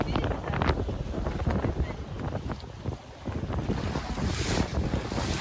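A motor boat runs at sea off Cape Tarkhankut in Crimea, heading toward the shore. A steady engine and hull rumble mixes with strong wind buffeting the microphone and the wash of waves, loud and continuous throughout.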